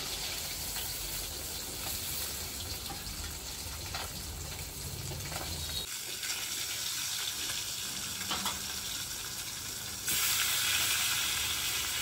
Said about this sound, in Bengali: এভাবে সব মাছগুলো ভেজে নিয়ে